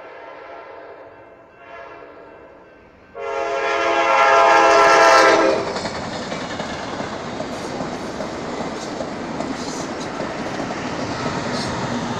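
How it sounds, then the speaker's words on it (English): A southbound Amtrak Talgo train on main track 2 sounds a loud, sustained horn blast, then rumbles past close by with a continuous rolling roar and faint wheel clatter. "This would be the southbound train on track 2."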